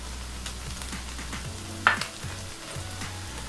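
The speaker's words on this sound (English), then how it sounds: "So to the skillet now, I'm going to add 1 small finely chopped onion." Finely chopped onion fries in a cast iron skillet, a soft continuous sizzle with faint crackles and one brief sharper clatter partway through.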